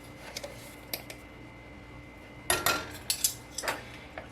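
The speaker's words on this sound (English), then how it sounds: "I'm going to add about a half a teaspoon of onion powder." Half a teaspoon of onion powder spooned into a bowl of snack mix, soft metal spoon ticks and clinks in small clusters, close and quiet, with no talking.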